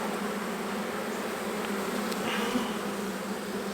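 Agitated honey bees swarm around an opened hive, making a dense, unbroken buzz that stays loud and close with no letup.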